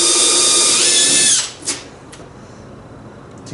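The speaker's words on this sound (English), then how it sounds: "we'll start by drilling a simple little hole" A power drill whines steadily as it bores a small hole through the wooden deck of a kayak, loud and close, then cuts off abruptly, followed by a brief knock and quiet room tone.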